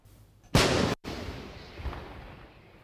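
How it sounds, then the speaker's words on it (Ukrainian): A 155 mm artillery gun fires once near Pokrovsk with a loud, sharp blast, followed by a long rumbling echo that fades away. "Снаряд калібру 155 мм пронизує повітря неподалік Покровська"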